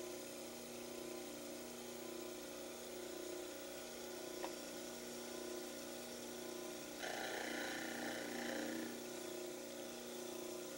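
A model trimmer grinding the heels of a plaster mandibular orthodontic cast, a steady motor hum with a rougher, brighter grinding texture coming in partway through as the cast meets the wheel.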